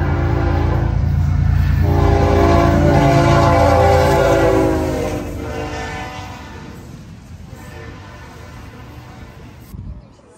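A loud train passes close by outside a restaurant, horn blaring with a low rumble. The horn fades after about five seconds as the rail noise continues more quietly.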